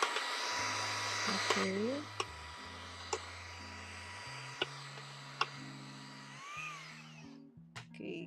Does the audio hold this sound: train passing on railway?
no